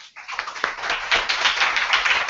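An audience at a poetry reading applauds the presenters, a dense, steady patter of many hands clapping close by after a brief start, sustained throughout.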